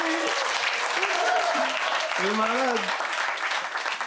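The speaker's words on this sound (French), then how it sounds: "On peut les applaudir, s'il vous plaît, les amis!" A comedy show audience applauds a couple in the crowd, with continuous clapping throughout and voices calling out and talking over it.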